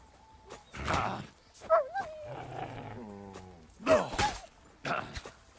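A dog in a medieval combat video game gives sharp barks, yips and drawn-out whimpering whines, close and loud, in short bursts separated by brief pauses.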